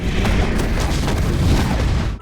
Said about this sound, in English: the FBI agents cause an explosion in front of the bunker